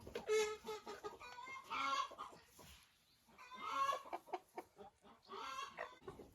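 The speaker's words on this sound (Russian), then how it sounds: "3 курочки шелковые." Silkie hens cluck close by in soft, bubbling bursts with a brief quiet gap, then more chattering clucks and trills that trail off into scattered notes.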